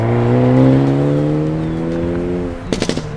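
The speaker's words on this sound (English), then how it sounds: "But what's more than that is the sound that you get when you rev it out." A 2022 Hyundai Elantra N engine revs high toward 6,500 RPM and holds a steady roar, then drops off into a quick crackling burst of pops at the end.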